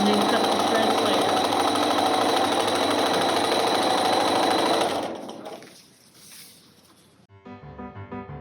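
A sewing machine runs fast and steady, chain stitching pieces of fabric for a flowering cactus quilt block in one continuous loud burst, then stops and gives way to quieter handling sounds.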